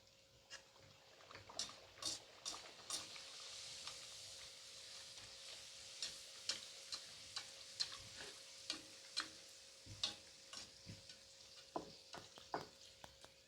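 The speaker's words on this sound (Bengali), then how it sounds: "এবার আমি কচুরিটাকে ভেজে নেব, গরম তেলে দিয়ে দেব।" Kachori deep-frying in hot white oil gives a faint, steady sizzle with scattered clicks and taps from stirring, with a low hum running beneath.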